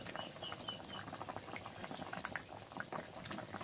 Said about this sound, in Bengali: তরকারি তো ফুটতেছ তো